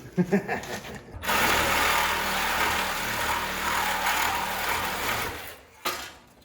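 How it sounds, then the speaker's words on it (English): A reciprocating saw cuts through the weathered body metal of a 1964 Datsun 320 pickup, a steady, loud buzzing rasp that runs for several seconds, opens and closes with brief clunks, and plays without talk. "Do your best, sawzall the rest."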